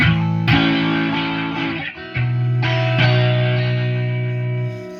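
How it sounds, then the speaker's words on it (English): A sustained, bright, distorted tone rings out with strong resonant overtones, shimmering sympathetically and swelling again mid-way before fading at the end. "like almost like a very, you know, like a room reverb type of effect"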